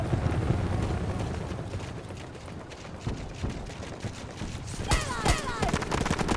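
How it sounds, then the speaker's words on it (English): Dense gunfire in the Battlefield 2042 video game crackles continuously, with rapid bursts and scattered shots layered over a rumbling battlefield background, fairly loud and busy. "Yeah, I hear like gunfire around."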